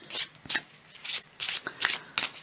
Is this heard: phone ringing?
no